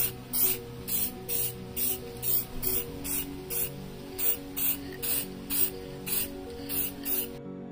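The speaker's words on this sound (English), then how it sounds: "Time for clear coat." Clear coat is sprayed onto the AC vents of a 1964 Chevelle in a regular rhythm of short hissing bursts, about a dozen evenly spaced passes from an aerosol can, loud and close.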